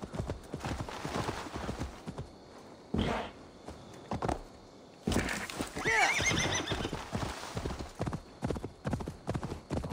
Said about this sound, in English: What kind of horse is this?